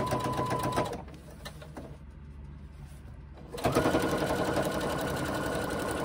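A sewing machine with a quarter-inch foot stitches a quarter-inch seam in two close, steady runs of whirring motor and needle chatter, separated by a short quieter pause.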